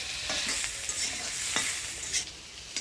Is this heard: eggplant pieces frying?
yes